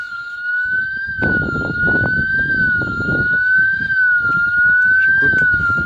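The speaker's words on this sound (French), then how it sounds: "Et là, ça sonne aussi." A Delta Dore home alarm siren wails loudly and continuously, a steady high electronic tone with a slight warble throughout, while people move and talk faintly underneath.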